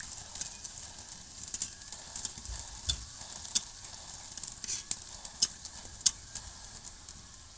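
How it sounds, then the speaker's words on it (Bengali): Shrimp kachori deep frying in hot oil, a steady bubbling sizzle with scattered sharp crackles and pops throughout, no talking. "আমি সবগুলো কচুরি এরকম লাল লাল করে ফুলকো ফুলকো করে ভেজে নেব"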